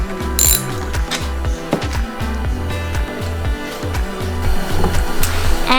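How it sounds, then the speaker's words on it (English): A hand ratchet loosens bolts on snowmobile handlebar risers and a mountain bar, its pawl clicking loudly in rapid repeated bursts with metallic clinks between strokes and no talking. "I'm taking off these bolts to my mountain bar and my risers."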